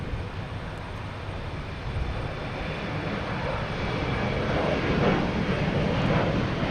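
A United Embraer E170 jet departs Boston Logan for LaGuardia, its engine roar steady and fairly loud, building slightly toward the end, with no voices.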